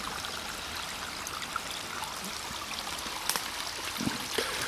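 A stream runs steadily after a night of hard rain, a continuous close rush of flowing water with brief trickling splashes rising out of it, no voices.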